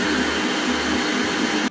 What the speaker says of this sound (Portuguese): O primeiro passo é colocar as claras aqui na batedeira para transformar em neve.